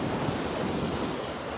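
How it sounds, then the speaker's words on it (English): Massive, powerful ocean waves crash and roar in a steady, loud wash of surf, with wind buffeting the microphone throughout and no voices. "Look at these massive, powerful waves."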